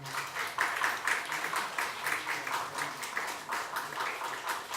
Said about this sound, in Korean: 큰 박수로 응원해 주시기 바랍니다.